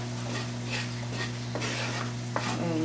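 A spoon stirs flour into melted butter in a pan, with a steady low sizzle and a few soft scraping strokes across the pan, close and fairly quiet.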